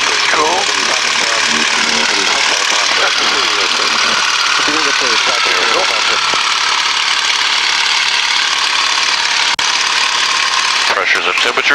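A warbird aircraft's piston engine runs loud and steady close by, a continuous broadband roar with rough throbbing and a short shift near the end, while people talk over it.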